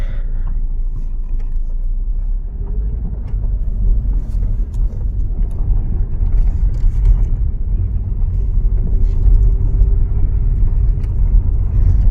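A 2016 Dodge Dart with a 1.4L engine drives along, heard from inside as a steady low rumble of engine and road noise that holds constant throughout.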